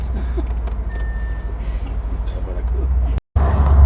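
Bentley Continental GTC V8 Mulliner being driven, a low engine rumble and road noise inside the cabin, steady with a brief cut near the end, with people talking over it.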